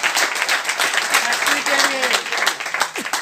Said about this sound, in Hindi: एक बार ताली बजा सकते हैं आप लोग इसके लिए।